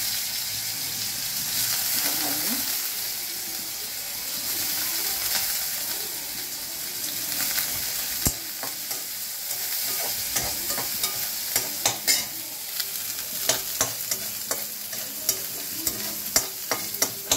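Coconut and peanuts fry in a pan for a potol dolma, a continuous sizzle with repeated stirring and scraping that grows into sharper clicks and taps toward the end, close and moderately loud.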